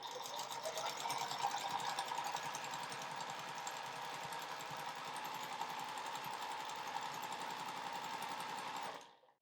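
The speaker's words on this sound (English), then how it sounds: "So I'm just going to sew a 1/4 inch seam across here" A sewing machine runs steadily and close for about nine seconds, stitching a quarter-inch seam across a double four patch quilt block, with a dense mechanical whir and rapid needle rhythm before stopping abruptly.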